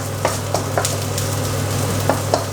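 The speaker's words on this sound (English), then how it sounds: "Keep stirring garlic" Garlic sizzles steadily in a hot pan while it is stirred, with a constant frying hiss and a few soft scrapes and taps from the stirring utensil, all close and alone.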